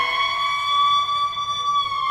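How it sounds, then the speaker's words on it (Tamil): An ambulance siren holds a steady, piercing tone with slight swells in pitch, loud and continuous, with no voices over it. "நான் பேசும்போது அந்த ஆம்புலன்ஸ் வரணுமா"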